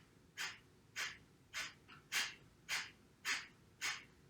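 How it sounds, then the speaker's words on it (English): Seven sharp, forceful exhales through the nose come at a steady pulse about every 0.6 seconds during a breathing exercise, with quiet passive inhales in between. The breaths are close and distinct, and no one speaks. "Feel how there's a sharp exhale and passive inhale."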